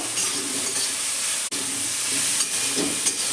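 Star fruit pieces are stirred in a hot pan with ground dried chili and a little turmeric, giving a steady close sizzle. Faint scrapes of the spoon sound now and then.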